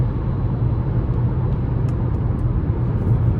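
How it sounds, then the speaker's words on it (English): Steady low road and engine drone from inside a 2026 Chevy Trax ACTIV 1.2T cruising on the interstate, constant and even with wind and tire noise and no talk. "as I'm driving down the interstate here."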